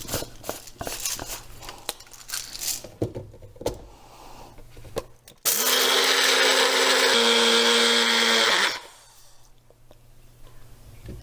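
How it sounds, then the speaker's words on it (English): Quiet clatter and small knocks, then a Magic Bullet blender loudly grinds coffee beans for about three seconds, its whine shifting pitch before it stops. "I just grind my beans right here in this magic bullet"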